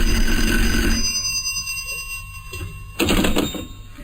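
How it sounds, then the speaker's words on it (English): An old telephone bell rings in two bursts, one opening the moment and a second about two seconds later, clear and fairly close against a faint steady hum. "It began with a phone call."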